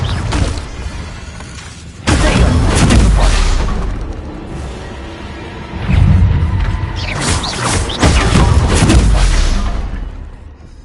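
Fiery Confringo blast spells going off in Hogwarts Legacy on PS4, heavy booming bursts landing in a couple of clusters around two and six to eight seconds, with mechanical rumbling between them.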